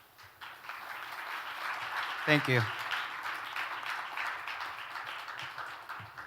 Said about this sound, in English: let's give him one round of the big applause